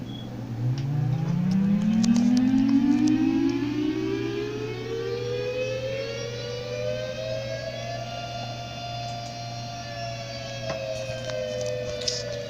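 A 2T22 tornado siren from the Roblox game Tornado Siren Museum winds up from a low growl to a sustained rising wail, a single continuous tone with a steady hum beneath it.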